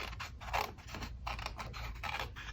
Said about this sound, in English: So I'm gonna just take my scissors